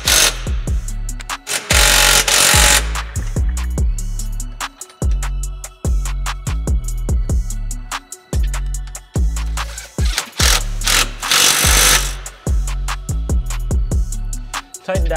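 A 13 mm tool tightens new bolt hardware on a rear sway bar brace on a Subaru WRX/STI, heard as a loud, close string of sharp, rapid mechanical bursts and clicks.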